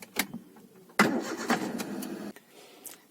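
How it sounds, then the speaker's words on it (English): Car engine cranks and catches with a loud burst after a short press of the clutch, then runs rough for about a second and a half before cutting off, with a few faint clicks around it. "you have to press the clutch and then you have to start the car"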